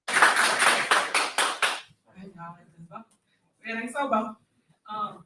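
A group of people clapping in a played-back recording: a quick run of about half a dozen sharp, loud claps, followed by someone talking in short bursts once the clapping stops.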